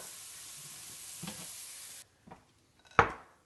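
Mushrooms browning in a hot pan give a soft, steady sizzle that cuts off abruptly, followed by a couple of light scrapes and a single clanking knock of utensil on metal.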